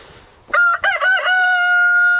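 A rooster crows loudly and close by, one full cock-a-doodle-doo with choppy opening notes and a long drawn-out final note, clear against a quiet background.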